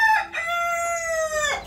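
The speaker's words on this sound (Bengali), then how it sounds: "দেখেন আমি মোরগের জন্য কথা বলতে পারতেছি না, মোরগটা এত বেশি চিৎকার করতেছে।" A rooster at a small home poultry yard gives one loud, close crow that rises and holds steady before breaking off, with no other sounds competing.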